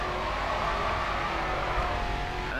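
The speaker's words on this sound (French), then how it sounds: "Allez, dérape dans le prochain virage." A car drifts through a corner in the Grid 2 racing game, with a steady engine roar and tire noise held loud and close for the whole moment.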